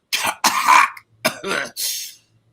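The anime swordsman Zoro coughs in a played episode, giving several harsh, hacking coughs in quick succession, loud and close with short silences between them.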